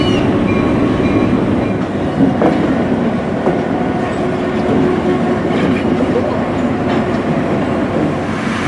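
Train rolling at the Florida Railroad Museum in Parrish, Florida, a loud, steady rumble with rhythmic wheel clatter and faint squeals, heard close by and continuously.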